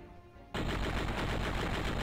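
Rapid automatic gunfire from the Crazy Flasher 5 video game erupts after a brief quiet moment, then holds as a loud, dense, continuous burst of shots to the end.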